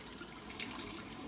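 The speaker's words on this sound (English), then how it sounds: "More hot water either side. Only need it over the joint." Hot water from a kettle pours steadily over the joint of a bent foam model aircraft wing, a soft continuous splashing trickle heard close and fairly quiet.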